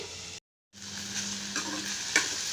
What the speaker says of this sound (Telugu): మూత పెట్టేసి సిమ్లో పెట్టేద్దాం స్టవ్ ఒక టెన్ మినిట్స్ పడుతుంది ఫ్రై అవ్వడానికి